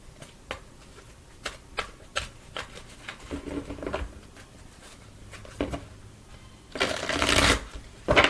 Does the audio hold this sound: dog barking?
no